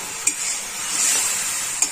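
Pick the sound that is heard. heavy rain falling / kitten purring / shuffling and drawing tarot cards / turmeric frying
turmeric frying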